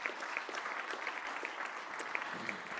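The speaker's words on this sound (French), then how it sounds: "il faut l'applaudir" Applause from a theatre audience at a finance conference, steady scattered clapping at moderate distance, fairly soft, for about three seconds.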